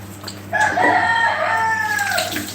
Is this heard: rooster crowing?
yes